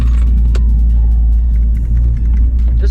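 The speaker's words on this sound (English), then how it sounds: "This will also be a good sound clip of my exhaust inside the car" A loud, deep engine drone with low exhaust rumble, heard from inside a Ford Focus RS, steady throughout with a faint higher whine briefly rising and falling.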